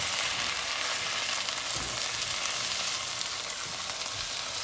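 Garlic and chicken sautéing in a hot pan, a continuous dense sizzle with a couple of soft low bumps from the food shifting, no voices.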